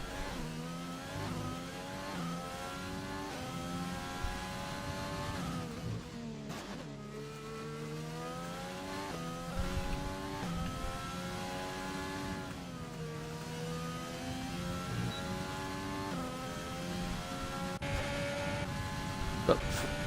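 Formula 1 race cars in a video game at the Spanish circuit pull out onto the track, their high-pitched engines continuously revving up and down in overlapping sweeps, with several cars droning together at steady volume.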